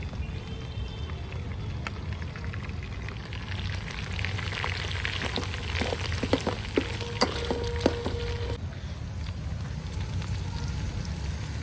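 Green chillies and onion hit hot oil with browned mutton pieces for a mutton biryani, giving a steady, close, even sizzle throughout with a few light clinks partway through.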